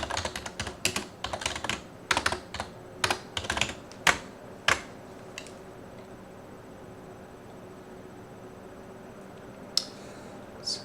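Typing on a computer keyboard during Python web programming work, with quick clusters of close key clicks over the first few seconds, then near quiet with only a couple of isolated taps at the end.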